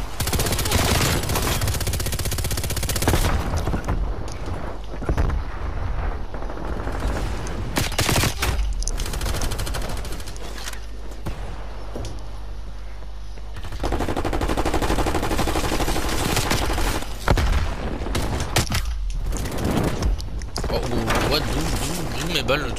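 MG82 machine gun in Call of Duty Cold War multiplayer firing long, loud sustained bursts, with brief gaps and scattered other gunfire and game effects between them, and a player talking over parts of it.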